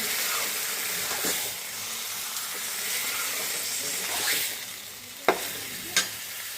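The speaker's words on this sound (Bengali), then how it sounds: "এখন ম্যারিনেট করে রাখা মাংসগুলোকে দিয়ে দেব। এখন নেড়ে চেড়ে ভালো করে কষিয়ে নেব।" Marinated mutton sizzles and fries in a pan with onions while being stirred, a soft continuous hiss broken by a few sharp scraping clacks of the spoon near the end.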